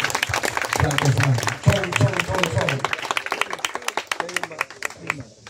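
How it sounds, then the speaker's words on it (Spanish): A crowd applauds a Salvadoran comedian at a farewell tribute among circus performers, dense clapping that fades out, with voices talking and shouting over it. "Un fuerte aplauso para nuestro gran amigo"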